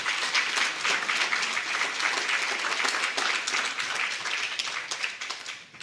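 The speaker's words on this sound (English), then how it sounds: "Ladies and gentlemen, a round of applause, please." A room full of people applauds steadily, a dense wash of clapping that holds at an even level throughout.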